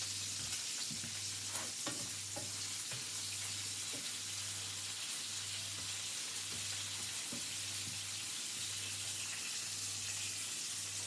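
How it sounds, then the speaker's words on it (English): Bacon lardons fry in a pan with a constant bright, hissing sizzle and light crackles, alongside a low rhythmic hum that pulses on and off. "the lardons as they're cooking"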